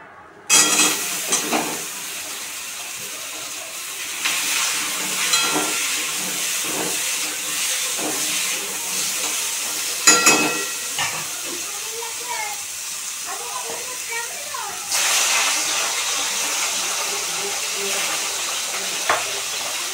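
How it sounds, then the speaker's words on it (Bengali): Fish curry gravy cooking in a pan on the stove, a continuous hissing bubbling with intermittent stirring scrapes and clatters, a louder surge toward the end. "ঝোলের মাছ ভাজা হয়ে গেছে, এবার আমি ঝোলটা চাপিয়ে দিচ্ছি।"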